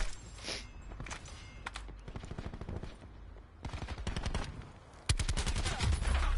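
Gunfire from the video game Call of Duty Black Ops 4: dense bursts of rapid automatic shots, close and loud, with overlapping volleys and a heavy final burst in a busy multiplayer match.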